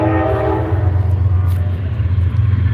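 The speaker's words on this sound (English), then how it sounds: "That's one thing about living in Ironton, man. You hear that train." A train rolls past in Ironton with its horn blaring, a loud, steady low rumble and sustained horn tones that run through the whole stretch without a break.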